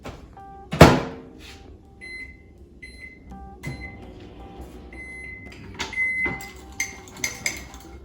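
A microwave oven heats a breakfast wrap filling for thirty seconds: a hard thump of the door closing, a few high electronic beeps, then the steady hum of the running oven with more beeps and small clunks.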